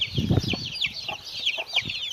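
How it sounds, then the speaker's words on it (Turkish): Backyard chickens cluck and a loose chick peeps: quick high cheeps run through, with low clucking in bursts beneath, nearby and moderately loud. "Arkadaşlar bir civcivimiz çıkmış dışarıya."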